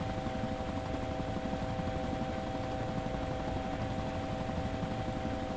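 Helicopter rotor in the video game ARMA 2, a steady, droning whir with a constant engine whine, heard alone and fairly quiet throughout.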